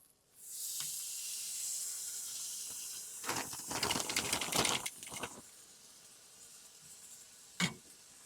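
Teriyaki-marinated skirt steaks hitting a grill on a freezing cold day, a loud steady sizzle that flares into crackling bursts mid-way, then settles to a softer hiss with one sharp pop near the end.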